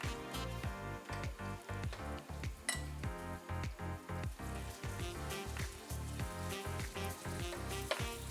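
Chicken stir-frying in a modest amount of oil for kung pao chicken, a loud continuous sizzle broken by repeated scraping and clattering of a utensil against the pan, with no talking.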